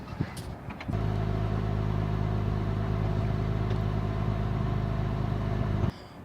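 A Honda Accord 3.0 engine idles steadily at close range during an exhaust check, a low even hum with a faint tonal whine. It starts abruptly about a second in and runs unbroken until it cuts off near the end.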